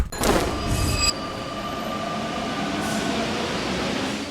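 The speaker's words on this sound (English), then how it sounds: "I didn't find the sound effect for a tram, but the metro is the next best thing" A metro train rumbles and clatters nearby, with a sharp metallic screech at the start, then a steady rolling roar of wheels on rails.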